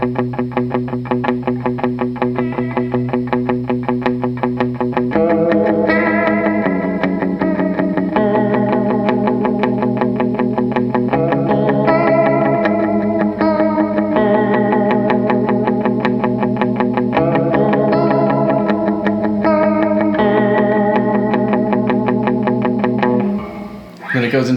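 Electric guitar riff played on the bridge pickup through a Fender Ultimate Chorus, a loud, steady distorted line with shimmering chorus that repeats in phrases and stops abruptly at the end.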